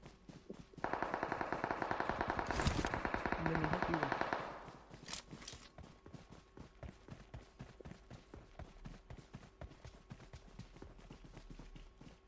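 Rapid automatic gunfire in a winter-themed survival video game, a dense rattling burst of several seconds that gives way to scattered shots and clattering action, with no voices during the shooting.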